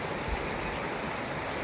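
Fast water rushes steadily at Rawal Dam, a dense, continuous roar with no breaks and no voices.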